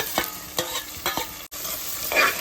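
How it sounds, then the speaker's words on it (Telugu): Tomato pieces and onions fry in a pan with a bright, close sizzle, punctuated by several quick stirring scrapes and a brief pause before the hiss swells again. "ఇప్పుడు ఫ్రై అయినాయి కదా టమాటా ముక్కలు గిడ్డలో చేసుకొని ఫ్రై చేసుకోవాలి"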